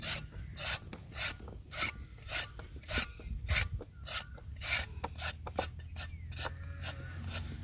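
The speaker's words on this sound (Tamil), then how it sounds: "கேரட்டை நல்லா தோல் சீவி எடுத்துக்கலாம்." Carrots being peeled for a traditional carrot halwa, heard as a steady run of short, dry rasping strokes in a quick repeated rhythm, close by and fairly quiet, with no talking.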